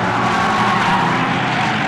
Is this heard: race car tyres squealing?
yes